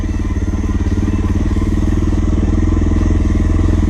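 A Suzuki motorcycle engine fitted with a ProCycle SS Pro-Flow headpipe and a carb mod runs at a track, with a loud, steady, close, rumbling idle throughout.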